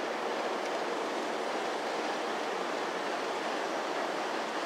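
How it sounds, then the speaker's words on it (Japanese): A Meitetsu limited express train passes through Narumi Station in 2017, a loud, steady rushing roar that holds for the whole stretch with no talk. "4番線の電車は通過電車です。"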